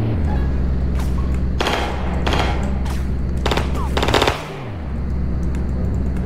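Rapid bursts of automatic gunfire from a switch-equipped pistol in the Roblox game The Bronx 2, several loud rattling volleys over a steady game background hum, with a low engine-like drone sweeping down near the end.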